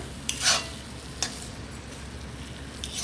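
Chicken sukka is stir-fried with a handful of fresh coriander, a soft sizzle running throughout with a few brief scraping stirs of the spatula near the start, close but fairly quiet, with no voices.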